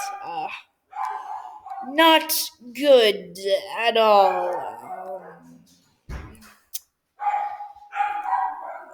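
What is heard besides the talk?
dogs barking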